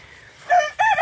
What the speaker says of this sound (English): Are you crowing?